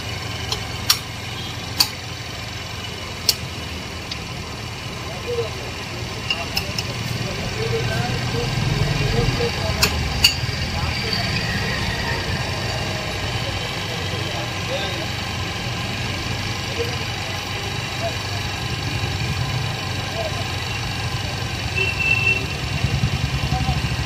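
Motorcycle engine idling steadily during carburetor tuning in a bike parts workshop, a continuous low rumble with a few sharp ticks and clicks early on and a slight rise in level midway.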